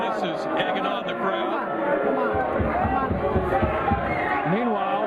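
A pool tournament crowd at the Mosconi Cup gets egged on by a player, a lively hubbub of chatter, shouts and murmurs rising and falling around voices in a busy hall.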